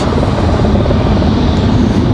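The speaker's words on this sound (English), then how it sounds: "Nice departure there for Iceland." Jet airliner departing Raleigh Durham International Airport bound for Iceland, a loud, steady broadband engine roar with deep low rumble, close and continuous throughout without any voices.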